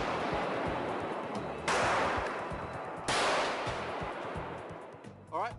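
Two sharp, loud gunshot cracks about a second and a half apart from a test fire of a simultaneous bullet release system, each a sudden broadband blast over a noisy background.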